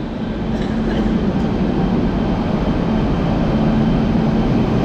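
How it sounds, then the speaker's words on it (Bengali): The Darjeeling Mail rolls into platform 13 at Sealdah station, producing a loud, continuous rumble of wheels and carriages that stays close and steady throughout. "এইদিকে বাঁ দিকে ঢুকছে দার্জিলিং মেল, উত্তরবঙ্গের সেরা ট্রেন দার্জিলিং মেল।"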